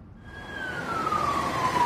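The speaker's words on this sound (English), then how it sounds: "Sirens, ambulances and fire engines blocking the street." Emergency vehicle siren on a Salisbury street cordoned off amid a large police presence, with ambulances and fire engines nearby; a single rising tone fades in and holds steady over street rumble, growing louder across the short stretch.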